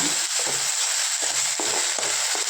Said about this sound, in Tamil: இப்போ இதை நல்லா வணக்கி எடுத்துக்கோங்க